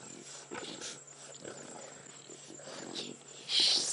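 Lions of the Nkuhuma pride at a buffalo kill making low growls and guttural calls, fairly faint in an open outdoor setting with insect hum and a vehicle idling, rising to a louder burst at the end.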